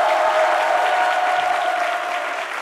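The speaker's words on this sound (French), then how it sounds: "C'est avec ces applaudissements qu'on le raccompagne." A studio audience on a midday television show applauding, a brief dense burst of clapping with a steady tone beneath, tapering slightly at the end.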